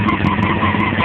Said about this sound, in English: jardine exhaust on a CBR is bar none the coolest sound that you could ever fucking imagine